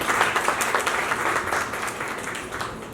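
An audience applauds for Ashish Shelar at the grand launch of a film and TV industry association, a steady wash of dense clapping that holds for several seconds before easing off slightly.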